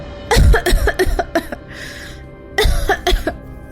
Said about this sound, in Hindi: तभी गौरी को बुरी तरह खांसी आने लगी